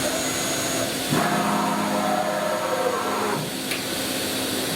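A machine spindle spins up to higher RPM, a loud steady whine with a constant hum, rising in pitch slightly around each speed change, close and continuous with no talking.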